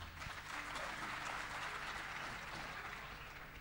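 Audience applause rolls through a hall at a concert of Hindi film songs, a steady dense clapping that stays even throughout and is heard alone, slightly distant.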